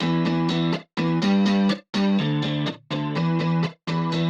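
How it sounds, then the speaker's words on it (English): A trap beat in ujam Beatmaker plays with a chorus effect, repeating one-bar patterns of punchy, distorted synth and bass hits, separated by short gaps, loud and alone. "What about chorus?"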